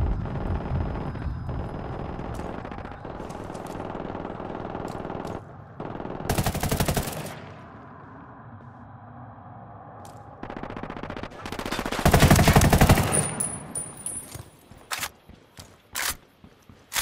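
Bursts of automatic gunfire ring out in Ghost Recon Wildlands, two loud, sharp volleys standing above a busy, rumbling combat backdrop, with scattered single shots near the end.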